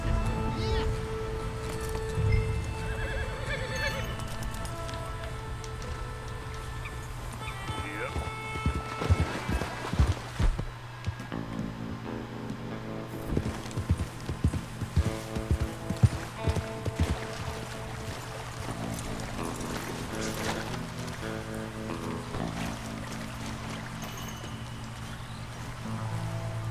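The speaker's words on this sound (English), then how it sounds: "Come on, horses. Now run." Horses galloping in the Red Dead Redemption 2 video game, a cluster of hoofbeats in the middle over steady game music and ambient tones, with occasional voices.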